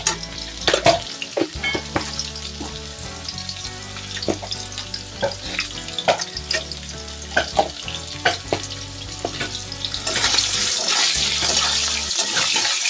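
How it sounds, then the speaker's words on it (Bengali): Diced potatoes with salt and turmeric fry in a pan with steady, close sizzling and crackling and occasional stirring scrapes; the hiss swells louder near the end, with no talk. "এবার আমি এটাকে সুন্দর করে লাল করে ভেজে নেবো আলুগুলিকে"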